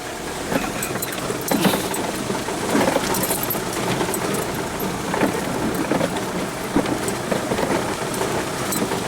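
Steady rain pours down in the Attapeu region of southern Laos, a dense continuous hiss of drops with occasional louder gusts, heard alone without voices throughout.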